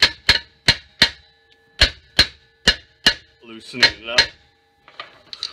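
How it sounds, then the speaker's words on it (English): A screwdriver taps a rotor retaining screw on the rear brakes of a 2015 Honda CR-V, giving about ten sharp, evenly spaced metallic knocks close up, with a brief stretch of talk near the end. "a few love taps, and then my screwdriver tapping on it"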